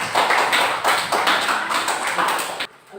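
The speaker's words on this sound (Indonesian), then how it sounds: "Tepuk tangan untuk temannya." Classmates in a classroom applaud a fellow student, a loud, steady burst of many hands clapping close by that stops abruptly near the end.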